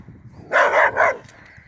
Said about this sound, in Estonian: üks kuri koer, kes tuli meid eksitama